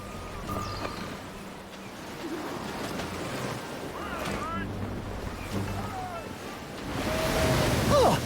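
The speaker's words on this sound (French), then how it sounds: "Le vent a forci. On fera mieux d'envoyer toute la toile, non? Nous voguons à belle allure, Duncan, n'est-ce pas?" Wind and ocean waves wash steadily around a sailing ship in the video game Assassin's Creed Black Flag, a broad rushing surge that swells louder toward the end, with occasional creaks and calls mixed in.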